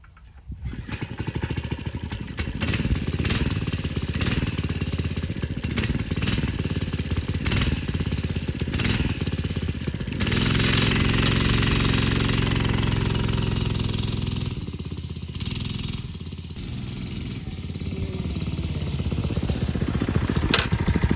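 A Tecumseh PowerSport 6 hp engine on a Manco Thunderbird minibike runs steadily and loudly close by for the whole stretch, with a brief surge in revs partway through and no talking.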